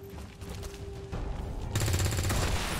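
Sustained automatic gunfire in XCOM 2: War of the Chosen, a dense rapid burst that grows louder partway through and keeps rattling at close range, with no talk over it.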